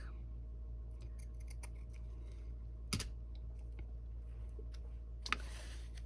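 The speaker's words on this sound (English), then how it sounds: "So I have a pinking shears here" Pinking shears cut through fabric in a few quiet, crisp snips close by, with short clicking bursts against a low steady background hum.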